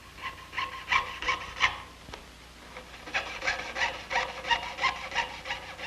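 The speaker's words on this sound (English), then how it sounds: "The two pieces of holly and ebony veneer will be spot glued together and the design sawn out with a very small bladed saw." A very small bladed saw cuts through two spot-glued sheets of holly and ebony veneer, giving close, rhythmic rasping strokes in two bursts with a short pause between them.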